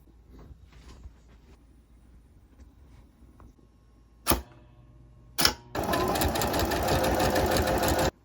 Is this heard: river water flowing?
no